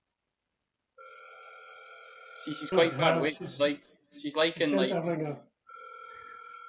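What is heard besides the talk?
telephone ringing on an outgoing call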